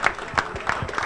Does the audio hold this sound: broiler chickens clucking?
no